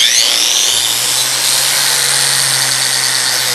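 An electric car polisher runs steadily at the start of polishing a vehicle's paint, a loud, even, close motor whine with a low, groaning hum underneath and no voices.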